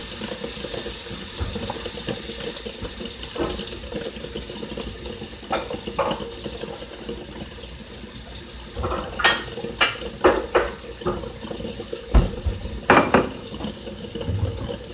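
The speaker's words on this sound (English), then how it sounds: "We're going to run our water, make sure it's cold as possible." Steady running cold water from a tap fills the background, with a few sharp clinks and clatters of dishes near the end.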